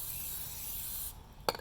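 Water-repellent liquid sprays steadily onto dry sand in a classroom lab, a continuous close hiss that cuts off abruptly, followed by a brief sharp click.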